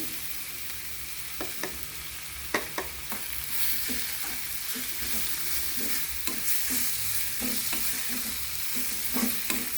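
Garam masala and chili powder frying in a pan for palak paneer, a steady soft sizzle broken by repeated clinks and scrapes of a spoon stirring, close up with no voices.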